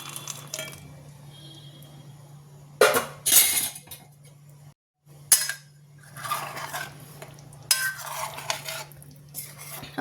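Spoon scraping and clattering against a pan while fried paneer and cashews are stirred into a masala gravy, several bursts of metallic stirring separated by quieter pauses over a steady low hum, no talk.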